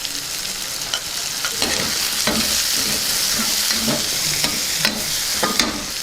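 Boti fry, Telangana-style goat tripe, sizzling in a pan with mint and a pinch of garam masala as it is stirred, with a steady frying hiss and repeated scraping strokes of the spoon, close and alone.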